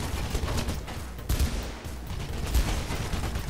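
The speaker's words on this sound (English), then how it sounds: "They're shooting me." Gunfire from enemies in the first-person action game Mirror's Edge, a dense fusillade of rapid shots with a few heavier bursts, loud and continuous throughout.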